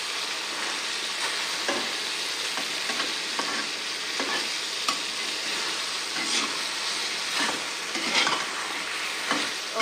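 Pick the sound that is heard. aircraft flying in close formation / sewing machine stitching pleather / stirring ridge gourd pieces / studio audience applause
stirring ridge gourd pieces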